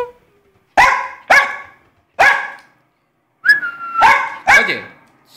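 A German Spitz barks five times in loud, sharp bursts, two quick pairs and a single bark between, with a short whistle-like whine.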